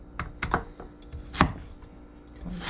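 A knife slicing carrots lengthwise on a cutting board, a few crisp, close chops and taps at irregular intervals in a quiet room.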